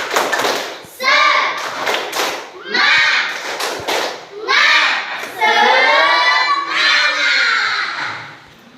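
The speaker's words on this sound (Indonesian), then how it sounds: "kita tepuk semangat dulu supaya lebih semangat untuk belajar" A classroom of children performs a rhythmic spirit clap in Indonesian school style: sharp claps and thumps in bursts, mixed with loud chanting and shouting voices close by.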